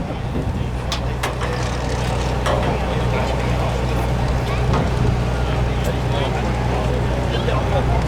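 A 1,200 lb modified lawn tractor called the Weed Eater roars loudly and steadily on the track at a truck and tractor pull, with wind buffeting and a voice talking over the engine.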